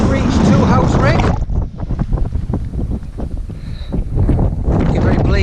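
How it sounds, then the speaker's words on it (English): Strong wind over the bleak North York Moors on a December hike buffets the microphone in loud, continuous roaring gusts that ease slightly midway and then build again. "Thankfully this wind calms down later."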